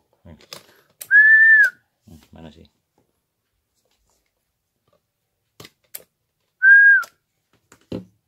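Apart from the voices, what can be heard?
whistling into radio microphone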